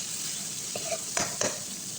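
Butter garlic crab and shrimp are stirred with oyster and tomato sauce in a pan, giving three short scraping strokes against a steady soft sizzle.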